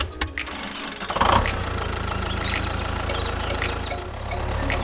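A small motor on a DIY toy tractor starts up and then runs with a steady, close, rattling chug that continues to the end.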